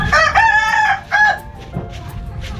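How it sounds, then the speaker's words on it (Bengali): Native chickens crow loudly and close by near Tajpur on the Digha coast, with one long cock-a-doodle-doo followed by shorter crows and clucks. "দেশি মুরগি এগুলো?"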